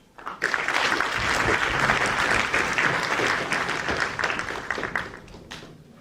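A big round of applause at an education conference, clapping swelling quickly from quiet to a full, dense roar of many hands, holding steady for several seconds before tapering off near the end.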